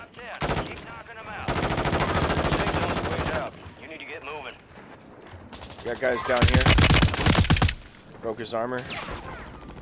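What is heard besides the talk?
gunfire in Call of Duty video game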